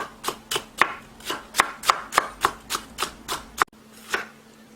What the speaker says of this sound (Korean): 비망은 한 개 정도 잘라서 이렇게 썰어주세요.